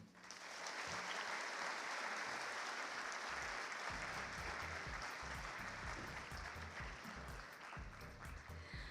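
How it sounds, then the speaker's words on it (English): Applause from a conference audience at a financial services and AI event fills the room, dense and steady, with low talk and sound from the hall underneath. "deserves a louder and a bigger round of applause for his very interesting and inspiring words"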